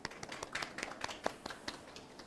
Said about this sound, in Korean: 그럼 큰 박수로 양태진 교수님을 모셔볼까요?